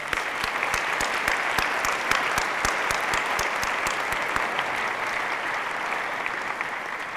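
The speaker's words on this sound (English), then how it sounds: "thanking them with a round of applause" Colloquium audience giving a round of applause to year-round center volunteers; dense clapping with several sharp, distinct claps close by, holding steady for several seconds.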